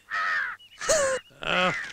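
Three loud, harsh crow caws, close by, separated by short pauses, with no other sounds around them.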